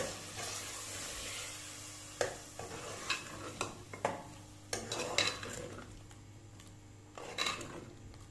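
Chicken roasting in a pot over a low flame while a spoon stirs it, producing a series of scraping clinks and knocks over a soft, low sizzle, close and with no voices.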